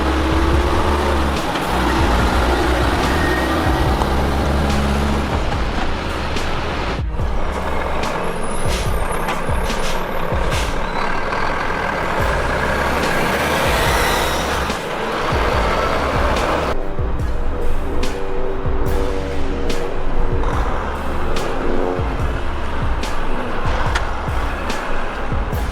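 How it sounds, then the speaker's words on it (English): Australian Volvo road train trucks hauling heavy loads in the outback, a loud continuous diesel rumble with hissing air brakes and clatter, close by and without speech. "these Australian Volvo trucks hauling some serious weight over thousands of miles"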